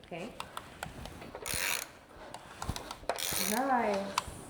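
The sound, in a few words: ratchet rotating rebuilt Range Rover V8 engine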